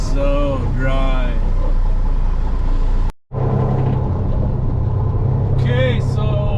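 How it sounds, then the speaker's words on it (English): Water truck on a dry dirt road at a cemetery construction site, its engine rumbling low and steady throughout, with someone talking over it and a brief dropout midway. "So Matt's got the water truck going"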